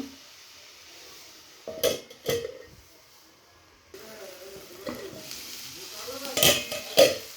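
Cabbage and carrot vegetable filling with turmeric stirred in a pan, heard as a few sharp utensil scrapes and knocks spaced over a quiet background with faint sizzle.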